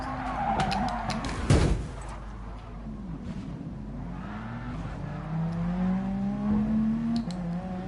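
A race car in Gran Turismo Sport on PS4 understeers and skids, with a steady engine drone under rising, wavering tire squeal and a sharp thump early on.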